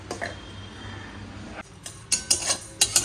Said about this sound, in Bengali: জোয়ানটা জাস্ট দিয়ে একটুখানি নাড়িয়ে নামিয়ে নিলাম